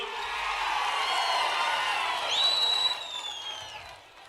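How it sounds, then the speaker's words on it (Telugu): A crowd at a political rally in Andhra Pradesh, addressed by Chief Minister Chandrababu Naidu, claps and cheers in a continuous roar, with a shrill whistle rising over the middle of the applause before it fades. "గట్టిగా చప్పట్లు కూడా చెప్పండి మా ఆడబిడ్డలు"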